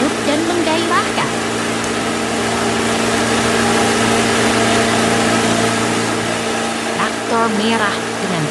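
A red cartoon car races over brown ground with a steady, dense engine roar. Scattered chirps and squeaky effects sit over the hum, with no clear speech.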